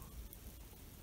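Rain beginning to fall in a frosty December forest clearing, a steady broadband patter across the whole short stretch with no voices.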